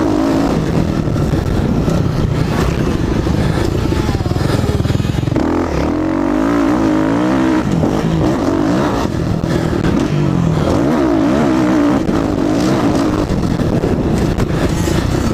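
A motocross bike fitted with a Rekluse clutch lapping a smooth dirt track, engine revving hard and continuously with rising and falling throttle swells, loud and close with no talk.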